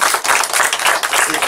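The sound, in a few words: audience applause at council workshop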